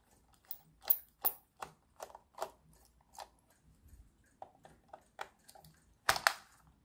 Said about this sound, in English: let's see if we can undo those screws